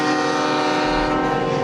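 Funeral train carrying the casket of President George H. W. Bush during a week of mourning, heard close and loud as a sustained horn blast over a rumbling train.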